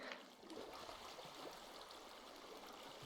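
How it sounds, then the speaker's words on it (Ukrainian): Waterfall in the Minecraft video game: a steady, soft rushing and trickling of flowing water, continuous and fairly faint throughout. "А куди цей водоспад веде?"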